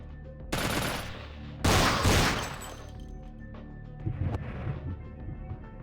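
Ranged weapons fire in Vampire the Masquerade Bloodlines, with two loud, heavy shot blasts echoing out, then quieter thuds and clatter over a steady game background hum.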